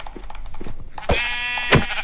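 Sheep in the Minecraft video game bleat twice in quick succession, short nasal cries standing out clearly over faint background game sounds.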